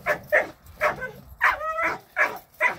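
Dogs being warmed up in a yard during an early morning workout, with a rapid series of about seven short barks and yips, close and loud, including a whimpering, whining note in the middle.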